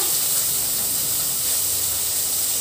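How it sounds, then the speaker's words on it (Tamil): Finely chopped onion fries in hot oil for an egg vermicelli kichadi, giving a steady, close, even hiss and sizzle with no talking. "ஒரே ஒரு வெங்காயம் சின்ன சின்னதாக கட் பண்ணியிருக்கேன் அந்த வெங்காயத்தை சேர்த்துடலாம்"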